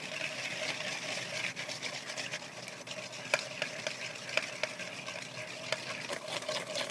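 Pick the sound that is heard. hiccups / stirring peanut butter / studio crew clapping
stirring peanut butter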